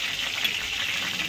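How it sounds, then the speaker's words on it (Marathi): Garlic and cumin tempering for masoor dal sizzling in hot oil, a steady, fairly quiet hiss heard close up without any talking. "चालू आहे, डाळीची फोडणी।"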